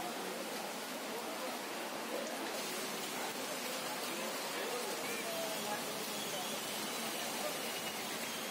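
Rain pours over a farm field in Kadapa district, a broad, even hiss of falling water that stays constant and fairly faint, with no clear individual drops standing out.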